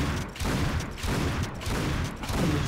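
Rapid gunfire aimed at a huge boss in the shooter game Painkiller Hell & Damnation, loud dense bursts in several rhythmic waves with brief gaps between them, close and with no talking.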